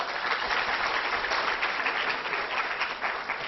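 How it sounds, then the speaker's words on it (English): An audience at a talk on imaging the aortic valve gives a steady, full round of applause, continuous clapping throughout with no voices over it. "we should give her a round of applause"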